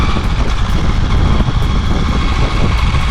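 Loud, steady mechanical whine and rumble from an Ecomobl ET Pro electric skateboard's planetary gear drive motor, running continuously and close by with slight pulsing.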